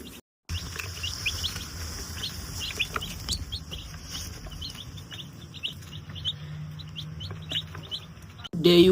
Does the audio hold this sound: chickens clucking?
yes